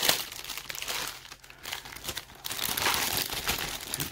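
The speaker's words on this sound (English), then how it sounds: "it will make a lot of crinkling noises" Packaging crinkles and rustles steadily as shoes from The Old Shoe House are slowly unwrapped, with close, continuous plastic and paper crumpling noises.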